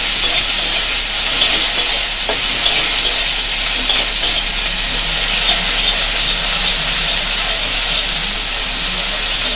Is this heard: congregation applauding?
no